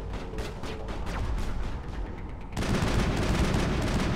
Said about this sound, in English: Switch to a sniper rifle. It's actually a pretty good range to shoot him at.